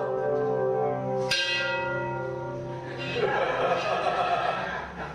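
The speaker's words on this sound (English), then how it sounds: "I'm ringing the bell" A bell is struck once with a bright ringing tone that decays slowly, followed by a rougher, noisy burst of sound.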